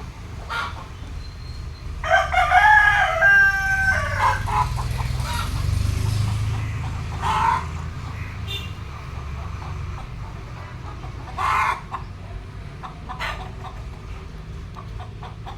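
Chickens cluck and a rooster crows in a farmyard, with bursts of crowing standing out over a steady low rumble and scattered fowl calls throughout.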